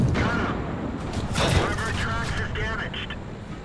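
Tank gunfire in World of Tanks: a heavy cannon boom with a sharp crack, then rumbling echoes and lighter follow-up noise, fairly loud and short.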